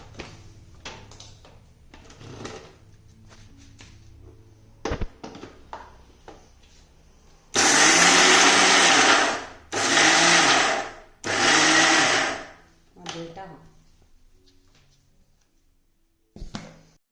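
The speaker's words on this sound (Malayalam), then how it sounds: "ഇനി നമുക്കൊന്ന് മിക്സിയിൽ വെച്ച് കറക്കിയെടുക്കാം" A kitchen mixer grinder crushes oats in three loud whirring bursts separated by short pauses, preceded and followed by quieter clicks and handling of the jar and lid.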